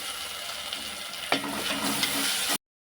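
A medium tomato drops into a Godavari-style fish tamarind curry frying in the pan, setting off a steady close sizzle with a sharp splash-like burst partway through before the sound cuts off abruptly.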